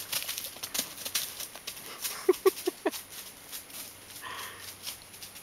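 A four-day-old calf scampers in circles, its hooves thudding on the ground in a quick uneven run of soft beats over a low outdoor background hiss.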